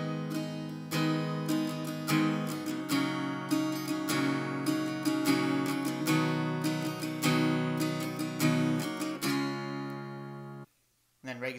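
An acoustic guitar strums a steady, fairly slow rhythmic pattern with sharp, bright strokes, close and loud, ending in a brief pause and a couple of final strums.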